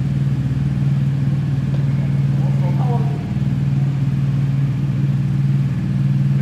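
A motorcycle engine hums at a steady, close drone while riding on a road in Laos, a constant low tone with a faint voice briefly audible over it.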